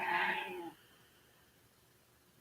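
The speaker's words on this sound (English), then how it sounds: "And my cat's confirming. He's over here meowing." A house cat gives one drawn-out, fairly loud meow close by, fading out after under a second into quiet.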